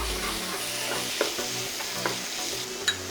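Chicken strips tossed with diced red bell pepper in a hot pan, a steady sizzle under a few sharp scrapes and knocks of a spoon stirring through the mix.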